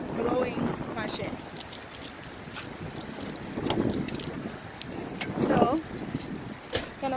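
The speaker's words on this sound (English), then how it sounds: "The wind is just like blowing my shit." Strong wind buffets the microphone in rough gusts while a person talks intermittently outdoors.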